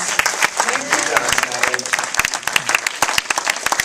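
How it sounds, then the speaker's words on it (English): Audience applause at a film festival screening, a dense patter of many hands clapping close by, steady and loud throughout with sharp individual claps standing out. "Can we give a round of applause to John Savage, please?"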